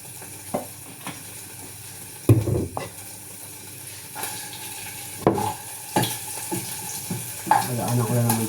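A little cooking oil heats in a pan under a soft, continuous frying hiss, broken by several louder clatters and knocks of the pan and utensils, nearby and without talk.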